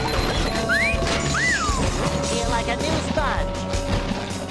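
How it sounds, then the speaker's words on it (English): A loud glass-shattering crash sounds as an enemy is defeated in the SpongeBob SquarePants: Battle for Bikini Bottom video game, over game music with whistling sound effects and a voice talking. "Oh, the sound of glass breaking when you kill a guy"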